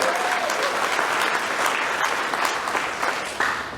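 Audience applause at a Chinese American WWII veterans medal presentation ceremony in Sacramento: steady, dense clapping from a crowd filling the whole stretch, easing slightly toward the end.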